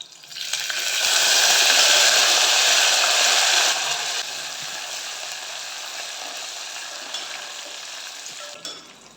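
Crushed garlic, dry red chillies and curry leaves fry in hot oil as a tempering for sambar, giving a loud, steady sizzle that swells early and then settles to a slightly softer, continuous crackle with no talking.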